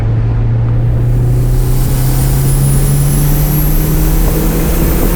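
A turbocharged DSM car, a cheap build running 12 pounds of boost, accelerates hard with a loud, steady engine roar that rises gradually in pitch, and a faint high turbo whine climbs above it.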